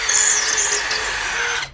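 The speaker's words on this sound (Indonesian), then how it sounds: "bor generik bisa begini" A generic cordless drill running on an LXT battery bores through a workpiece, giving a steady high-pitched whine that holds for nearly two seconds and then cuts off as the bit breaks through.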